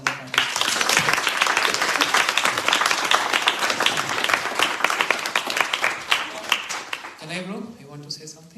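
Audience clapping for the participants after an evening devotional drama at a retreat in Germany, a dense sustained round of applause that fades out near the end as a voice begins.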